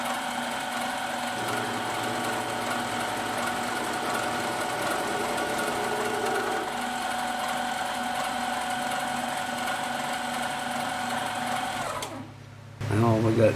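A small lathe runs steadily while making 14mm hex nuts, a continuous mechanical whine and hum that cuts out near the end, with a person talking over it.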